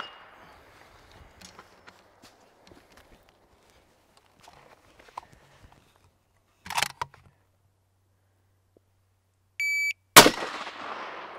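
A shooting timer gives a short electronic beep, followed almost at once by a loud sharp rifle shot outdoors in gusty badlands wind, with scattered faint rustles and footsteps before.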